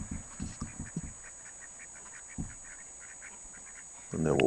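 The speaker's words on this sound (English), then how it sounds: "The duck's having a mess about there." A duck quacks in a quick run of calls, then once more after a pause, out in a foggy night setting during air-rifle ratting; a rustling noise rises near the end.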